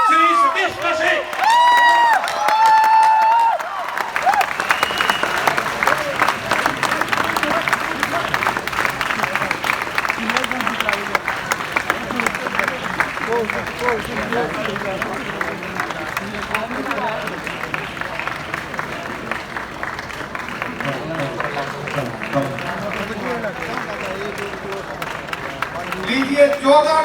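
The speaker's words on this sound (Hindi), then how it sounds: "तालियां रुकनी नहीं चाहिए जब तक उनका स्थान ग्रहण नहीं करते" A festival crowd in Kurukshetra applauds and cheers steadily for a long stretch as guests take their places on stage. It is preceded by a brief musical flourish, and a voice can be heard over parts of it.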